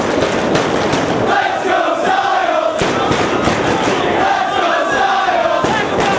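A professional wrestling crowd on Long Island roars and chants loudly and continuously, with surging waves of cheering and shouting filling the arena.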